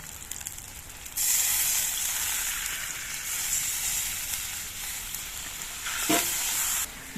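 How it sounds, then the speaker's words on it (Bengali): A small amount of broth hits hot fried spice paste for a Pabda fish curry, bursting into a loud, bright sizzle and hiss that holds steady for several seconds, with a brief clatter near the end. "এখন আমি অল্প পরিমাণ ঝোল দিয়ে দিচ্ছি।"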